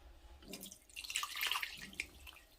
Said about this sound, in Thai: เดี๋ยวเราก็เอาน้ำที่เราต้มสุกแล้วนะคะ ใส่ลงไปค่ะ